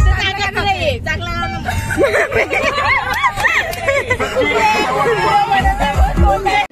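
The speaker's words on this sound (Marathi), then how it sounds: "गर्दी बघा किती लाईन बघा." Crowd chatter in a queue at Jejuri temple: dense babble of many voices with laughter, louder nearby talk on top and a low rumble of vehicles underneath, continuous throughout.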